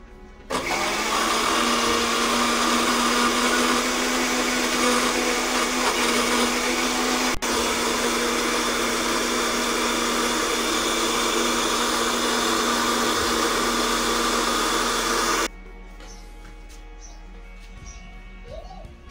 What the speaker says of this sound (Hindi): अब ये जूसर में डाल के इसे पीस लेंगे।